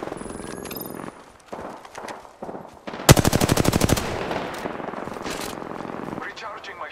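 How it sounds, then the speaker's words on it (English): Rapid gunfire in the Apex Legends video game, a loud burst of automatic shots about a second long that cuts through ongoing game sounds and speech. "Shots fired at me."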